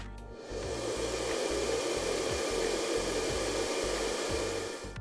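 Hair dryer blowing steadily at close range, a broad continuous rush of air over a low motor hum, starting up in the first half second and then holding constant without talk.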